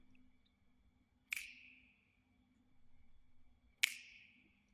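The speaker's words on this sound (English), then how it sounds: "The snaps were just recordings of snaps that I made" Two crisp finger snaps recorded close to a microphone with light reverb, spaced a couple of seconds apart over a faint low hum.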